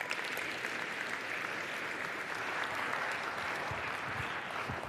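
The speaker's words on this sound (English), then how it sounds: "Come on up here, Robert. Round of applause." An audience claps to welcome the CEO of a drone company onto the stage at a tech careers talk, steady continuous applause throughout, moderately distant and even, with no voices over it.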